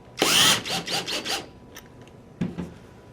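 Power drill driving Phillips head screws while installing an A5 Response trigger, a short burst of whirring with several pulsing stutters, then a brief second burst after a pause, close up.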